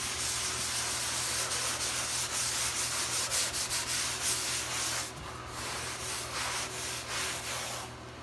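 A green scrub pad rubs rapidly back and forth over stripped Saltillo tile, a close, loud, rhythmic scouring with a brief pause midway.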